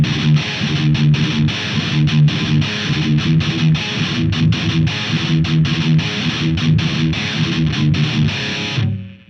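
Heavily distorted Line 6 Helix guitar tone, a fast chugging metal riff with tight palm-muted rhythm, loud and continuous before cutting off abruptly, no voices.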